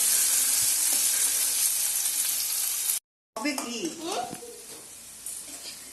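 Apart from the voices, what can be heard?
onions lightly frying in a pan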